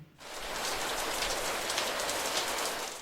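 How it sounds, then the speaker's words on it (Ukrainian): Steady rain falls and patters on a surface, a constant soft hiss with no other sounds. "Давайте послухаємо звук літнього дощу."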